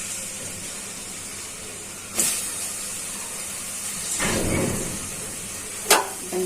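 Chopped onions hit hot oil in a pan and sizzle as a steady hiss, with a few sharper crackling bursts and scrapes partway through; no voices.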